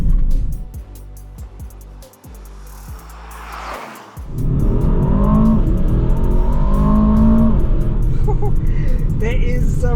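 A 2022 Aston Martin DBX 707 SUV's engine revs and accelerates hard, rising into a loud, sustained roar after a few short throttle blips, with a voice talking over it.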